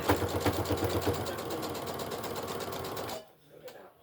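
A sewing machine back stitching fabric for a period bag runs in a fast, even mechanical patter for about three seconds and then stops abruptly, leaving quiet room tone.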